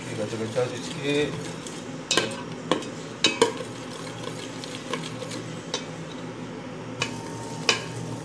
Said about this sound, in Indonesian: Okey, gacau-gacau sikit-sikit.